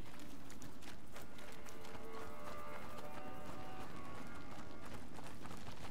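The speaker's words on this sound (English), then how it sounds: "Ugh, the horse." Horse hooves clip-clop steadily at a run in A Plague Tale: Innocence, heard at Laurentius's farm, the rapid hoofbeats blending into dense noise with a sustained musical tone layered on top throughout.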